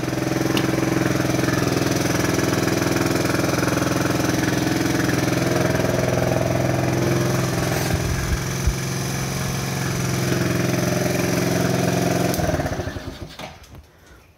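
A small 90cc ATV engine idles loudly and steadily nearby, a buzzing drone that wavers slightly before being shut off and dying away near the end.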